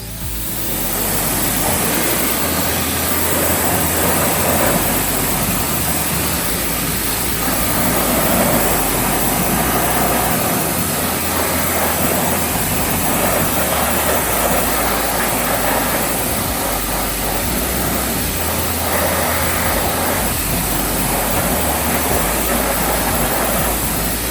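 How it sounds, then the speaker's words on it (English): A pressure washer rinses a car wheel with a loud, continuous rushing spray and motor drone that holds steady from start to finish, with no voices. "take your pressure washer,"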